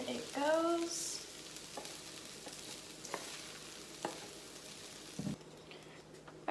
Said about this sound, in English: So now we're going to add the meat. All right, so in it goes.